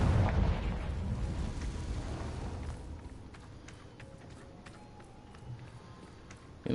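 A Confringo fire-blast spell from the video game Hogwarts Legacy goes off as a loud, deep boom at the start, its rumble fading into a low lingering roar with a few faint pops afterward.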